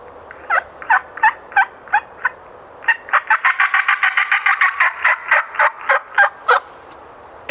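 A hand-operated turkey call imitating a hen's fly-down cackle: a loud, close run of sharp yelps that starts spaced, speeds into a rapid excited burst, then slows and trails off, with no talking.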